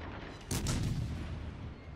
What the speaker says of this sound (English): must say guns sound pretty good when they fire off there too